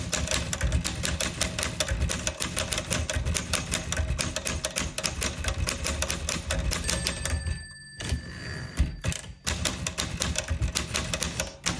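Typing on a 1961 Everest K2 manual typewriter with italic type: a dense, steady run of sharp keystrikes, loud and close, with a short pause and a ring of the margin bell near the end.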